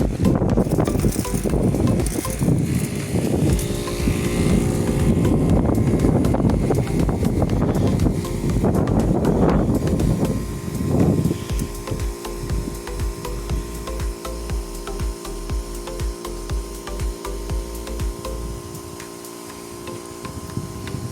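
A Nowa 12-litre OP 1512o battery sprayer runs under pressure, giving a continuous mechanical pump hum with steady misting hiss and some clicks and handling noise close by, getting slightly quieter near the end.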